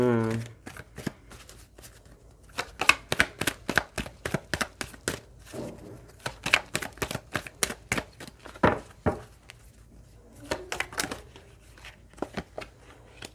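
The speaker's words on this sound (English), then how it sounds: "I had to shuffle till they felt good." Tarot cards being shuffled by hand in a series of quick, crisp riffling bursts and soft flicks that come and go steadily; nearby voice faintly present in the background.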